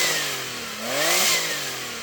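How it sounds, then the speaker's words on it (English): A modified Porsche 964 911 Turbo engine gives a quick rev. The pitch rises, peaks and falls back within about two seconds, over a bright wash of high-end noise. "Okay, let's hear the 964, rev that up."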